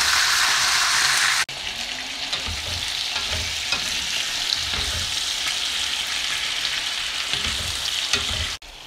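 Steady, dense sizzling of chicken frying in caramelized sugar and oil, continuous and close, with occasional stirring clatter and shifts in intensity.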